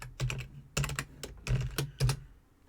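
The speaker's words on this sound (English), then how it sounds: "You want to type in sudo before that, put in your password," Someone types a terminal command on a computer keyboard, short clusters of quick close key clicks in four bursts, with no talking.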